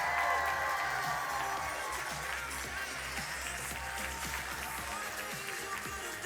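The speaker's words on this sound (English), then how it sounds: "I need you to make this place thunderously loud to bring to the stage Shannon, Gillette, and Brandon Howe." Audience at a real estate marketing event applauding to welcome speakers to the stage, a faint, continuous wash of clapping heard from a distance with no pauses.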